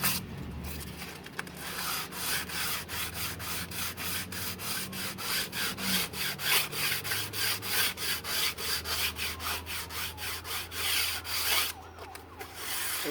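Close, steady light sanding of teak wood on a boat under restoration: rhythmic rubbing strokes repeat in quick succession throughout, with no talking.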